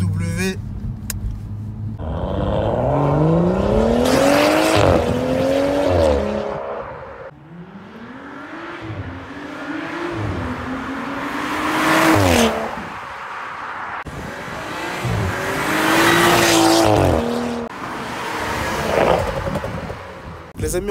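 Six-cylinder engine of a BMW 135i F20 with manual gearbox, heard with the windows open as it revs up repeatedly through several gears, loud and rising in pitch with each pull, with a voice talking over it.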